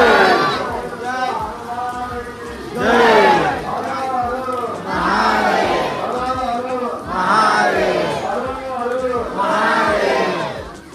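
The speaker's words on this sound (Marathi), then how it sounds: "ही सगळी मुखदर्शनाची गर्दी आहे" A dense crowd of pilgrims queues for darshan at Bhimashankar Jyotirlinga temple in the Shravan month, with loud overlapping voices and rhythmic chanting swells rising and falling close by.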